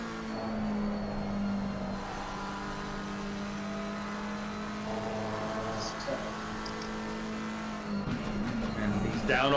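A GT3 race car in a racing video game at Silverstone pulls away from a pit stop, its engine droning and building steadily, with a sharper rise near the end under a low game mix.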